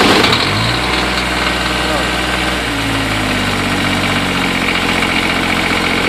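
A Kubota D722 diesel engine catches after six months unused and settles into a steady, loud idle, the low running rumble continuous and close throughout.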